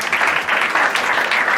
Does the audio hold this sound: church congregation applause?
yes